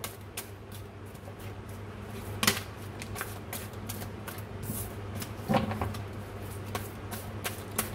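Tarot cards being shuffled, a run of quick crisp riffles and flicks with a couple of louder snaps, close and fairly quiet.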